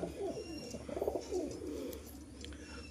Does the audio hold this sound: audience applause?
no